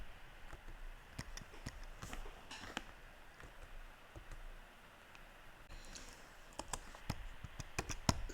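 Quiet, irregular clicks of keys on a computer keyboard while HTML code for a Django web app's form button is typed, with short bursts of keystrokes separated by pauses, close and soft.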